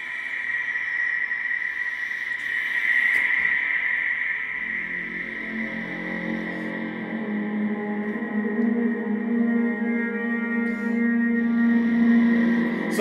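A sustained low horn tone with a breathy, airy wash around it, swelling and echoing with a reverberant, effect-laden character.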